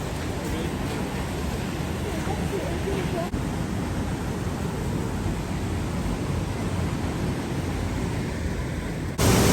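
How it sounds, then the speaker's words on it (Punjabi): Rushing water pours down a partly frozen, ice-lined waterfall in Johnston Canyon, Banff, making a steady, dense roar that fills the whole stretch without a break. "ਆ ਝਰਨਾ ਇਹ ਵੀ ਜੰਮਿਆ ਪਿਆ ਬਹੁਤ ਤੇਜ਼ ਪਾਣੀ ਗਿਰ ਰਿਹਾ"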